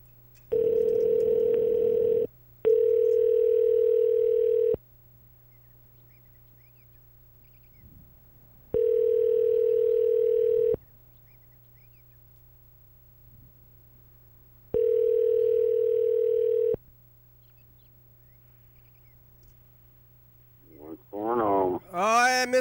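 Four long, steady ringback tones on a phone call to Mr. Ginsu, evenly spaced with silent gaps over a faint background hum, before a voice answers at the very end.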